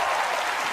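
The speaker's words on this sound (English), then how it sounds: "juggling fire always gets a nice round of applause" Applause from a live audience after a fire juggling act on a magic competition stage, a dense continuous clatter of clapping heard briefly and loudly with no voices.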